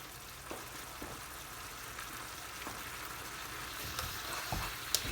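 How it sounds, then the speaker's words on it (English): Beef strips in sauce sizzle steadily over high heat, a soft continuous frying hiss broken by occasional stirring scrapes and clinks, fairly quiet and without voices. "turn the heat to high, and we'll just dry out some of this sauce"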